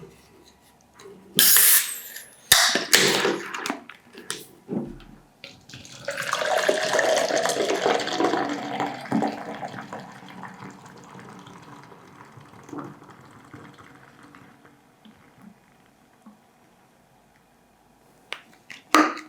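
Guinness stout pouring into a glass, a steady liquid rush that swells after a few sharp knocks and then gradually tapers off, close and fairly loud with no talking.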